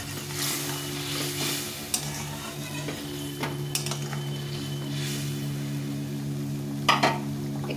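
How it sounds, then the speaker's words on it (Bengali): Hot water hits a pan of mourala fish curry, bringing up a steady close sizzle and bubbling, with occasional clinks of a utensil against the pot over a low continuous hum. "এখন গরম জলটা পরিমাণ মতো গরম জল দিতে হবে, দিয়ে ফুটিয়ে নিতে হবে।"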